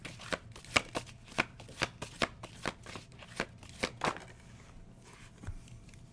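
A deck of cards is shuffled close by in a quick run of a dozen or so crisp riffling snaps at a fairly even rhythm, thinning out toward the end into quieter handling.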